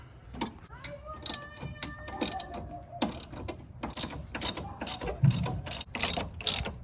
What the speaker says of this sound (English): I'm gonna hold it here with the Crescent Wrench while he's gonna be turning the ratchet in the bottom